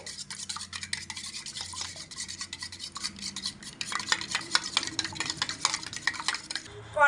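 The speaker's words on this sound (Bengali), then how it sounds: "খুব ভালো করে ডিমটাকে ফাটিয়ে নেব চামচের" A spoon beats a cracked egg with a pinch of salt, giving quick, light clinks and scrapes against the bowl in an uneven rhythm that gets busier and louder toward the end.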